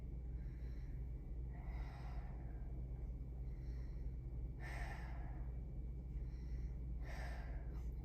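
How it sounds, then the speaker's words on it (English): Children sitting cross-legged with eyes closed take a series of slow deep breaths, soft breathy inhales and exhales recurring about every one and a half to two seconds over a low steady hum. "close your eyes and take 5 or 10 deep breaths"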